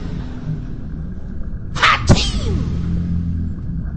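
A sharp, loud sneeze bursts out mid-clip in a comedy courtroom hearing scene, a quick two-part explosive sound followed by a thud, over a low background hum.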